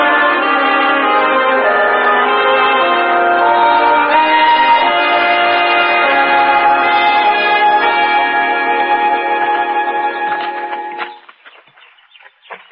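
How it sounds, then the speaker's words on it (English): A church bell tolls for a funeral, its long, rich ringing sustained and resonant for about eleven seconds before fading to quiet. "I'm anxious to talk to her before another funeral bell begins to toll."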